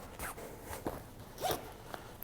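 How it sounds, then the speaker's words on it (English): Zip on a Vango Wilderness convertible sleeping bag pulled around the bag in several quick, close rasping strokes, soft to moderate in loudness with brief pauses between pulls. "slide the slider through, and then again, zip this"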